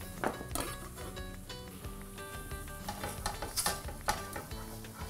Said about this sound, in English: I'm going to throw in my peas. There we are, that's enough. Stir those around.